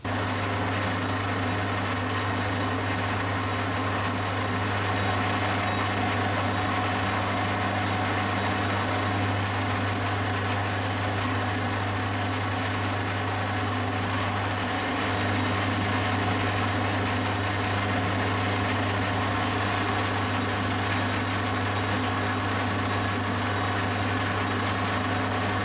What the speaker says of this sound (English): we're going to drill the gas passage right through the centre of the crankshaft itself